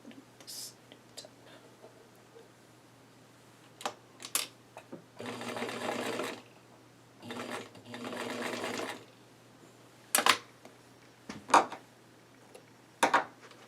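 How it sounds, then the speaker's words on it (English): Domestic sewing machine edge stitching fabric in several short whirring bursts, with pauses filled by small clicks and handling noises from the material and pins. "I'm going to edge stitch this for consistency"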